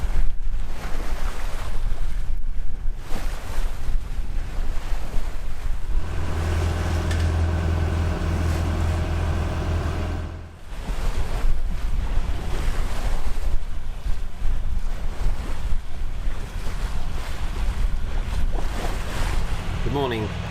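A sailboat motor sailing under full sail on the open Atlantic between Newport and the Azores, its engine drone steady beneath continuous rushing waves, wind and microphone buffeting, loud and close throughout.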